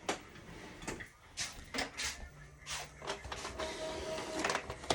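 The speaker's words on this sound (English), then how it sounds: "So we're going to print this." An inkjet-style printer runs a print job on mirrored film, giving a series of mechanical whirs, clunks and sliding carriage passes in uneven bursts over a steady motor hum, close and moderately loud.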